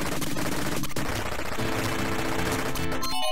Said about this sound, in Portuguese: Tô dando tiro pra frente, mas não acerto ninguém